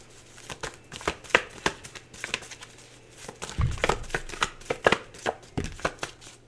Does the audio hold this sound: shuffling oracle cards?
yes